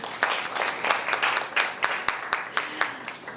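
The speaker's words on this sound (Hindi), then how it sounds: "ताली बनती है यहाँ पे" Audience applause at a spiritual talk, a steady wash of many hands clapping with sharper individual claps standing out, moderately loud and close, no voices over it.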